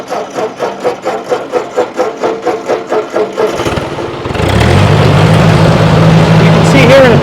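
A 1964 Ford 4000 gasoline farm tractor, 62 horsepower, runs close by, first with a loping rhythmic chug, then settling into a loud, steady, rough idle.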